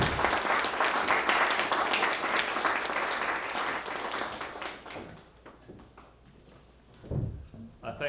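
Audience applause welcoming speaker Ed Whelan at a talk on constitutionalism and Supreme Court selection, steady dense clapping filling the room for about five seconds, then fading to a quieter tail with a brief rustle.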